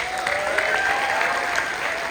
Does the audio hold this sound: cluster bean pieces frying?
no